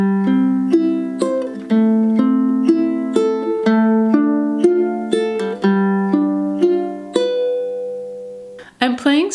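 Ukulele finger picking on strings four down to one for a song, bright plucked notes in a steady repeating rolling pattern, close and clear, alone without talk.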